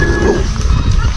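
A dog barks close by in a short, loud burst, with voices and background noise around it.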